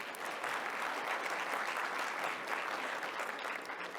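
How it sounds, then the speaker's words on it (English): An audience applauds the speakers at the close of a lightning talk session, a continuous wash of clapping heard from a distance at low, even volume. "One round of applause, please, for all of them."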